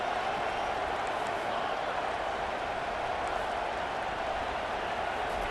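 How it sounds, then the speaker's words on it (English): Football stadium crowd at a TCU vs Utah game roaring for the defense on third down, a dense, steady wall of cheering and noise that holds loud and unbroken throughout. "Decibels rising as the crowd gets behind this defense on third down"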